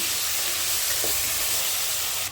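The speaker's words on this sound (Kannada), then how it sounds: "ಫ್ರೈ ಆಗಲಿ ಚೆನ್ನಾಗಿ." Moringa drumstick pods fry in a pan with a steady, close sizzling hiss that holds evenly throughout, with no one speaking.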